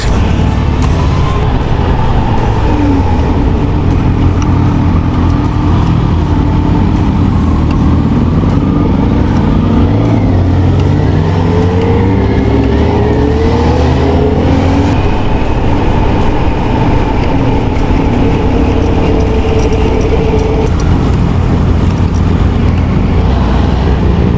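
Kawasaki ZH2 and ZX-10R superbikes ride along Kerala mountain roads: loud, unbroken engine and wind roar with engine tones rising and falling through the ride, close up and with no talking.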